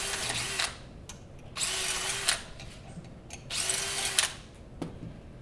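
A power drill bores out holes in panels in three short high-pitched whirring bursts separated by pauses, close and fairly loud, with a few small clicks and knocks between runs.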